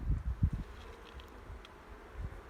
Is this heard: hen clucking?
no